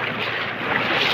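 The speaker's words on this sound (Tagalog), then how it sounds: "Lakas ng alon." Strong flood water churns and rushes during a typhoon in a flooded Cavite street, a dense, steady roar of moving water mixed with wind, close and loud with no voices.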